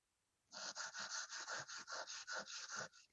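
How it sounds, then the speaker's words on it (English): Sandpaper is drawn over metal bezel wire in quick, even back-and-forth strokes, about a dozen gritty rubs in a row. The sound is close and quiet, with no speech. "just as I get onto the line, I am going to swap to my sandpaper"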